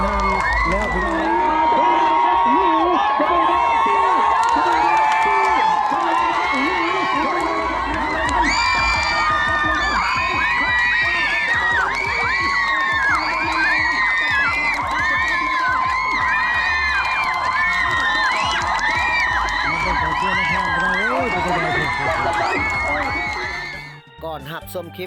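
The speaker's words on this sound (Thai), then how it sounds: "ไม่เบิ่งกองเชียร์ในห้างแล้วพี่น้อง" A crowd of supporters at a boat racing festival in Mahaxay, Khammouane, cheers, whoops and shouts loudly and continuously, with a commentator speaking over the noise.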